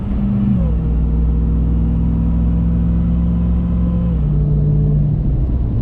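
A 2022 Ram TRX's engine drones from inside the cabin in sport mode, holding steady revs with a clear shift-like step in pitch early on and another near the end, as gears change under manual control.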